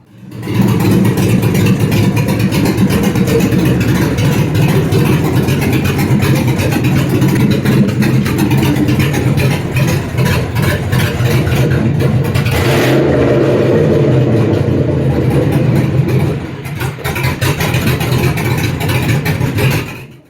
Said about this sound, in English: This is a 228 232 cam from Texas Speed, and after we swapped it in, this is what it sounds like.